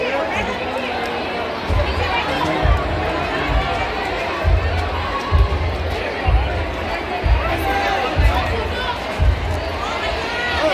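A large crowd at a Hindu religious court gathering at Bageshwar Dham fills the air with dense babble, shuffling and scattered shouts, loud and continuous with rhythmic thumps recurring throughout.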